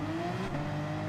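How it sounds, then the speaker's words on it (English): Tyres skidding under locking brakes in Gran Turismo 7, a brief steady squeal over a continuous engine whine, close and moderately loud. "You can hear a bit of tyre skidding going on."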